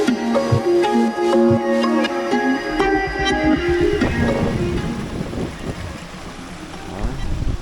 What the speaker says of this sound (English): we got a waterfall over here. Big old waterfall, and it keeps going up and up, and there's multiple waterfalls